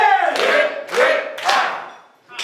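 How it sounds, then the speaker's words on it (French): Members of a church congregation at a thanksgiving celebration break into applause in three surging bursts that swell and fade, each rising out of a sung or spoken tone, and the hall goes quiet at the end. "Nous allons les applaudir."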